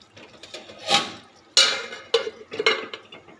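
A lid clattering onto a pot of rohu fish curry, a few close metallic knocks and scrapes between quieter pauses.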